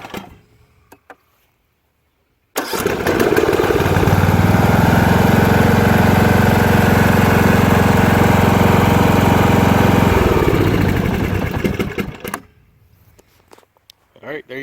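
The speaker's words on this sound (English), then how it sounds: "Custom built engine test stand, as well as the custom built Cosmos Audio Edition Briggs and Stratton." A custom-built Briggs and Stratton small engine on a homemade test stand, starting up and running loud and steady with a buzzing throb for about ten seconds, revving down before cutting off, with someone talking before and after.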